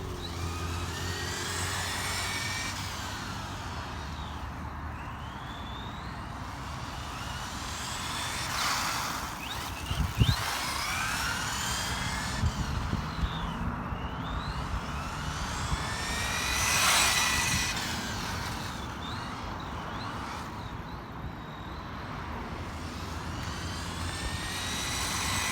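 A Tamiya Super Modified 11t motor from around 2002 drives an NiMH-powered RC car, its high-pitched electric whine rising and falling continuously as the car passes near and away in repeated fast runs.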